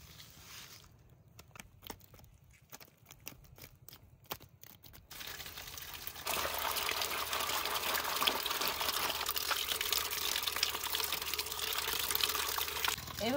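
Tap water poured over cut fish in a sieve to wash off the scales, starting with light splashes and clinks, then turning into a steady, close, full rush of running water.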